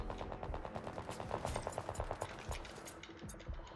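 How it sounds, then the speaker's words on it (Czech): Rapid gunfire from the video game Sniper Ghost Warrior Contracts rattles in steady automatic bursts, a dense run of sharp repeated shots at moderate volume throughout. "Kde kdo jako střílí"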